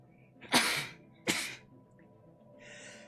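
Two loud, close sneezes about a second apart, each a sharp burst with a breathy tail, then a faint high hiss fading in; nobody speaks.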